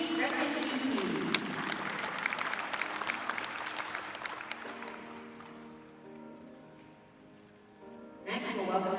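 An audience at a dairy cattle show claps for a Brown Swiss cow in the ring, a moderate burst of applause that fades out over several seconds, mixed with an announcer's voice over a loudspeaker.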